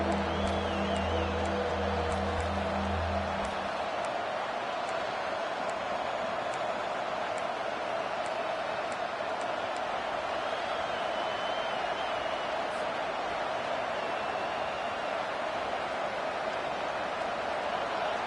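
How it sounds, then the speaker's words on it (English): Video game college football stadium crowd, VT versus LSU, roaring steadily as the defense lines up on third down, a continuous dense wash of cheering noise held for the whole stretch. "Decibels rising as the crowd gets behind this defense on 3rd down."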